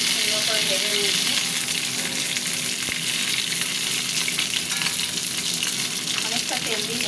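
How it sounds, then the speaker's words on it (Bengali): Pointed gourd (potol) frying in plenty of oil in a pan, a steady dense sizzle that runs without break from start to finish, close and fairly loud, with only faint scattered clinks and no one talking. "পটলগুলো ভাজা হতে থাক।"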